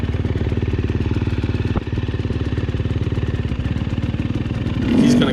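A dirt bike motorcycle rides a leaf-covered trail at Brushy Mountain, its engine chugging loud and steady up close with a rapid rhythmic pulse, a brief dip partway through and a swell of revving near the end.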